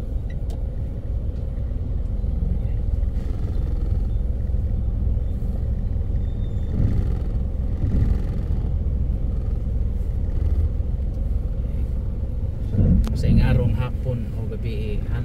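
Steady road traffic rumbles along a street in Lahug, Cebu City, Philippines, with cars and motorcycles passing continuously, a louder vehicle surge near the end, and talk over the top.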